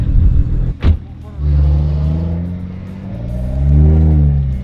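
A BMW E90 with a built N55 single-turbo engine revs up loudly and close, with a sharp transient and then two rising acceleration pulls. Speech is heard over the engine.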